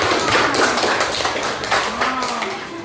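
Students clap together in an Indonesian classroom lesson, a run of close, irregular hand claps with some taps and thumps, and a voice briefly audible toward the end.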